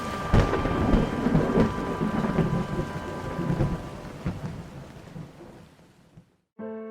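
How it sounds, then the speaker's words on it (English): Rain pours steadily with rumbling thunder rolling beneath it, a loud, close storm that fades away before an abrupt cut to a different sound at the end. "God shut the door tight as the first raindrops began to fall."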